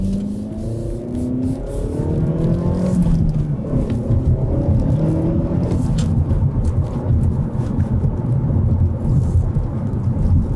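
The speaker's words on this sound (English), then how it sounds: "That exhaust with the turbo, the sound is just amazing." Deep, steady turbocharged exhaust rumble from a 2025 Hyundai Elantra N with a 276-horsepower engine and stick shift, loud and continuous throughout with shifting engine tones and no talking.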